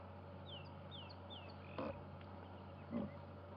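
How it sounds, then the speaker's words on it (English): Faint calls and chirps of non-water-dependent frogs carry over a steady hum of night ambience on a safari drive at sunset, with a couple of louder croaks standing out nearby. "It's one of the waterless frogs. One of the frogs that are not water dependent."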